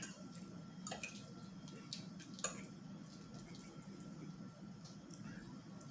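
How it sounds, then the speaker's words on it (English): Creamy sauce of heavy cream, chicken broth and Parmesan pours steadily over noodles with soft dripping and splashing, a continuous wet trickle close by, with a few small clinks along the way. "Pour it over your noodles, mix it in"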